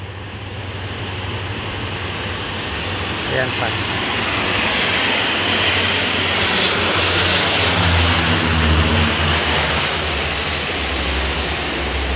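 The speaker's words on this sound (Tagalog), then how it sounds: "Ang ingay-ingay ng mga eroplano. Kumukuha po sila ng tubig." Firefighting airplanes pass overhead while scooping up water, their propeller engines making a loud, continuous droning roar that swells slightly as people talk nearby.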